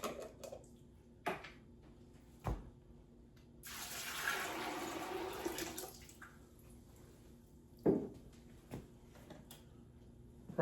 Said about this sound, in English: And gonna put fresh, clean filtered water back in here this time.